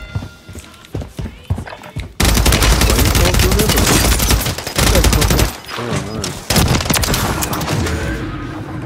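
Rapid gunfire bursts in a video game, loud and dense, running almost continuously after a short stretch of quieter game sounds, with players talking over it.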